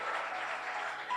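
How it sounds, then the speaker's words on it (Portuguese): Church congregation clapping together in praise, a brief dense burst of applause filling the room. "Aplauda ao Senhor porque Ele é digno."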